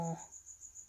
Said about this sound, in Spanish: Cállate, grillo.